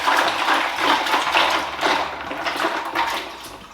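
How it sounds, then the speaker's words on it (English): A gallon of ice-cold water is poured into a turkey brine, making a steady, close, loud splashing gush that lasts several seconds with slight surges, and no voices over it. "I am going to pour this gallon of ice cold water into this brine."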